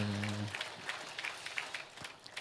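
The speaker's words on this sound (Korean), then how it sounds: "우리 귀한 성가대와 우리 반주하님께서 격려의 박수 한번 할까요?" Scattered applause from a church congregation at Sunday worship for the choir and piano accompanist, soft and uneven, with individual claps standing out after a brief sustained tone at the start.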